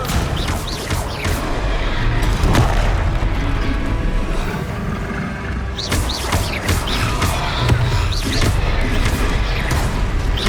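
A fiery Confringo spell blast strikes a troll in a video game, booming and crashing over sustained heavy rumbling battle noise, with a burst around the middle and more impacts later.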